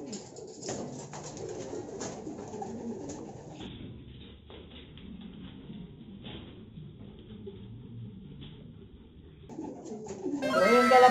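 Racing pigeons coo softly in repeated low phrases during a training session in Pagbilao, Quezon, with a faint voice in the background and a sharp rustling noise at the end.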